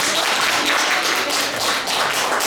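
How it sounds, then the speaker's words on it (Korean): Workers at a day-care center for the elderly clap together during a staff training workshop in Yeosu, a continuous, fairly loud burst of applause with a few sharper taps, no talking over it. "저는 몰랐는데 이미 하시고 계시면 박수 한번."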